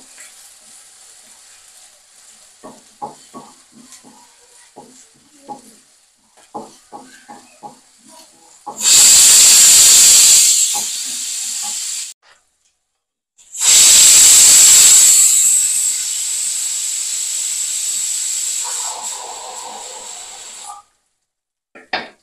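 Ginger garlic paste hits a hot pan for mutton kulambu after scattered light clicks and taps. Two loud, sustained bursts of steamy hissing sizzle follow, with a short pause between them.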